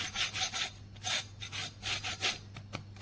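Crisp, rhythmic crunching repeats about a dozen times in close succession as a pan-fried French toast chicken sandwich is cut or bitten, quiet and close.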